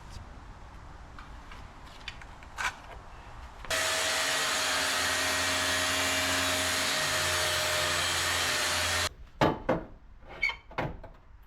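Cutting a 15mm thick steel base plate for a winch: a steady, loud broadband grinding roar runs for about five seconds, then cuts off, followed by a few scattered knocks and clatters.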